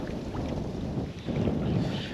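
Wind blowing steadily outdoors in a nature park, a continuous low rushing roar buffeting the microphone, swelling stronger toward the end.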